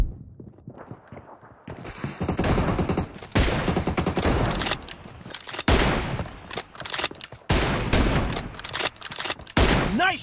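Loud gunfire from a PUBG Mobile team deathmatch, M24 sniper rifle shots ringing out among dense overlapping battle noise, repeated bursts and cracks with footsteps, continuous and close throughout.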